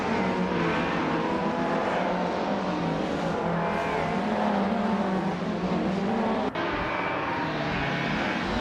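A 1998 Ford Mondeo race car in a racing video game, its engine a continuous loud, steady drone with shifting pitch, with no pauses.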